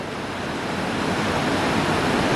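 Rushing river water with dangerous whirlpools, heading toward waterfalls, makes a steady, loud, broadband roar that holds evenly throughout with no talk.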